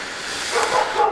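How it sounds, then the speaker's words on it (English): Dogs bark somewhere in the distance near an off-grid cabin, a couple of short faint yaps rising over a steady broadband hiss of outdoor background noise. "Sorry about the noise of the dogs in the background."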